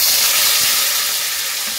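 Tomato dropped into hot oil for a Bengali dhokar dalna, giving a steady bright sizzle and steamy hiss that holds fairly loud and close for the whole moment, with no talking.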